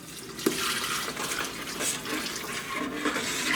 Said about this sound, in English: Come on in, add our stock.